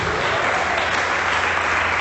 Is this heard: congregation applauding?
yes